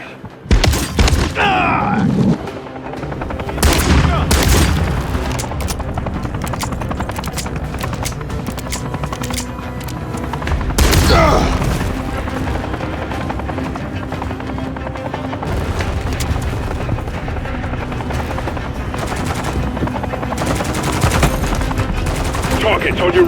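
Bursts of rifle and automatic gunfire in the video game Call of Duty Modern Warfare III, loud close shots and rattling volleys repeating over a rumbling battlefield background.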